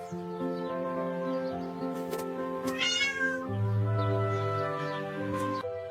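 A cat meows repeatedly in drawn-out, wavering cries, close and fairly loud, with a few brief chirpy sounds mixed in.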